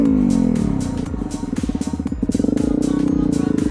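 Honda CRF250L motorcycle engine revving hard with throttle in a parking lot, a loud close pulsing roar that rises and falls with rapid firing beats.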